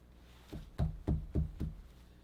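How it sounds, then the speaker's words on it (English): Four firm knocks on the door of a grandmother's house, evenly spaced and close, with nothing else around them. "he runs up to Granny's house and he knocks on the door."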